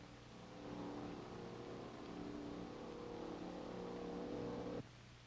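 A hot rod roadster in the C Modified Roadster class running at the 1951 Bonneville National Speed Trials: a steady, droning engine roar holds at an even pitch, then cuts off abruptly near the end.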